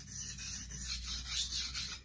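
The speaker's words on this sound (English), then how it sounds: "when I sharpen Scandi grinds, I mostly just hold the bevel against the stone and pull back and forth, like this" A Scandi-ground knife bevel pulled back and forth against a sharpening stone, giving a steady close rasping rub in repeated strokes of roughly even rhythm, with no talking.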